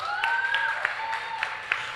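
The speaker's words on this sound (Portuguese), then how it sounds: "Palmas!" An audience at a literary reading in a festival tent applauds, a soft, moderately distant patter of clapping with a few sharper claps near the front, while a voice speaks over it.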